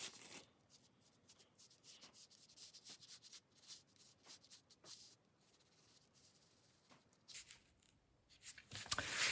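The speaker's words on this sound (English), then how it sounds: "I'm just kind of sketching that curve in here" Pencil or marker lightly sketching a curve onto a foam plug for a wet slab bonsai pot, a faint scratchy rubbing in short strokes, close and quiet, with a louder handling rustle at the end.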